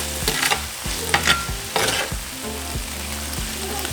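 Carne asada meat sizzles loudly and steadily in a pan, with brief scraping stirs and crackling bursts rising over a constant frying hiss, close up and with no talking.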